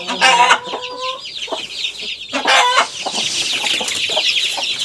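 Young chickens on a Ukrainian smallholding cluck and squawk loudly and close by in a busy, overlapping flock, with a brief rooster-like call near the start and no talking.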